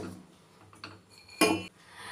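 Roasted peanuts clatter into a mixer jar, with a light clinking and a brief rattling pour in the middle, quiet and close.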